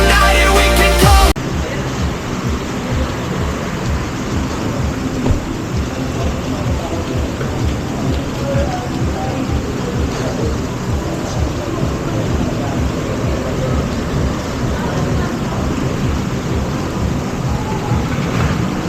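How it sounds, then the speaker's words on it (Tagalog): Heavy rain pours down in a dense, unbroken roar with rumbles of thunder, loud and close for a long stretch after a brief burst of music at the start. "Lakas ng ulan."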